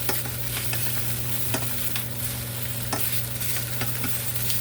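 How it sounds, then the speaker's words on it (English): Oxtails sear in a pan with a continuous loud sizzle up close, joined by sharp clicks and crackling pops at irregular intervals over a low steady hum, with no voices. "They're getting more and more color, so we just keep on searing for a little bit longer here."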